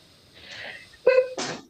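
A single sharp sneeze bursts out in a courtroom, with a quick inhale followed by an explosive release, heard close and fairly loud against a quiet room.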